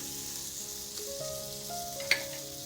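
Green chillies frying in a pan with salt, chilli powder and turmeric, a soft steady sizzle running throughout with a faint stir and one small clink near the end.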